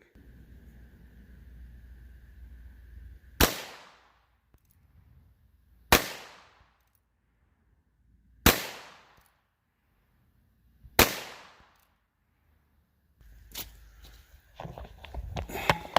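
Four Federal Punch .22 LR rounds fire from a small revolver with a 2-inch barrel into ballistic gel, loud sharp cracks spaced about two and a half seconds apart, each with a short decaying ring, then some handling noise.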